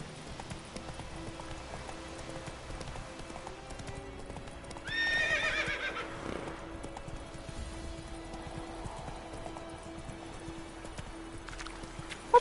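Roach, the horse in The Witcher 3, gallops with steady rhythmic hoofbeats, and a loud whinny rises midway before the hooves carry on under faint game ambience.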